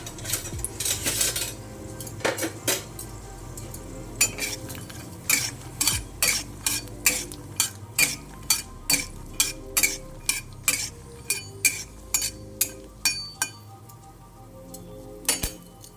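A metal spoon stirs whole peanuts frying in oil in a pan with rhythmic, regular clinks and scrapes over a soft frying sizzle, close and distinct.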